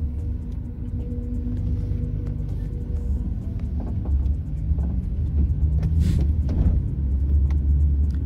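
Riding inside an Uber car whose rear door handles are broken, a steady low engine and road rumble runs throughout, swelling slightly later on with a few faint clicks and rattles from the cabin.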